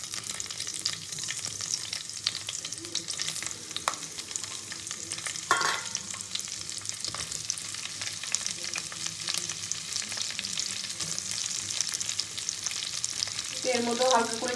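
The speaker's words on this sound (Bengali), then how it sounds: "এবার আমি পেঁয়াজ, ক্যাপসিকাম আর কাঁচা লঙ্কা কুচিগুলো একসঙ্গে ভেজে নেব।" Onion, capsicum and green chillies frying together in a pan for fried rice, a steady loud sizzle throughout with occasional stirring scrapes and a brief clatter near the end.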